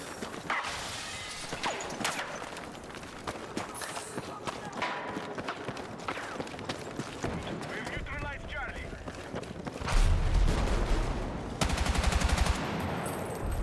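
Heavy gunfire from a tank in the video game Battlefield 6, with bursts of rapid shots and a loud, booming stretch near the end, all mixed with chaotic battlefield noise and talking.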